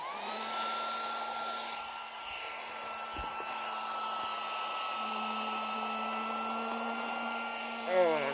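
Tiny handheld vacuum cleaner sucking up mess, a continuous high-pitched motor whine with steady airflow hiss, briefly rattling as debris is pulled in, loud and close throughout.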